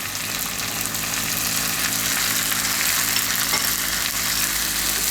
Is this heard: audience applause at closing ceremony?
no